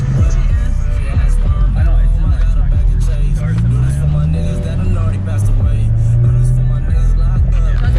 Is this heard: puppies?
no